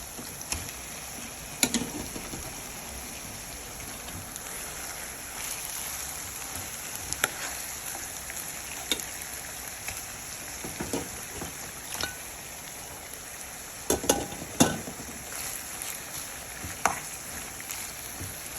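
Pieces of saltfish fry with vegetables in a pan, giving a steady close sizzle broken by irregular scraping and stirring clatters from a utensil. No talking is heard.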